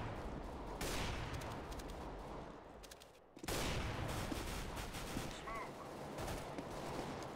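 Rapid automatic gunfire in Counter-Strike: Global Offensive, in dense rattling bursts that fill the scene, with a brief lull midway before the firing resumes just as heavily, under occasional faint talk.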